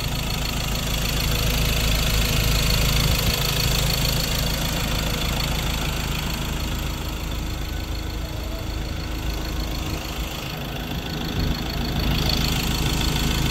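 A 2017 Ford Ranger engine idles steadily at close range, a constant low rumble with a faint knocking rhythm that holds throughout, with no talking.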